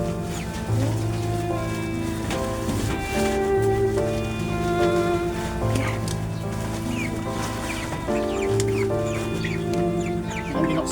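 Pet chickens cluck and murmur inside a coop, several birds calling in overlapping bursts near and moderately loud, a continuous busy chorus with no talking.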